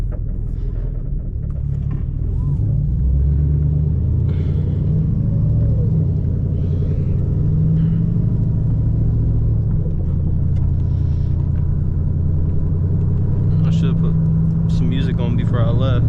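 A 2010 Chevrolet Camaro SS with the L99 V8 rumbles heavily from inside the car, its exhaust drone steady and loud with rising and falling revs throughout.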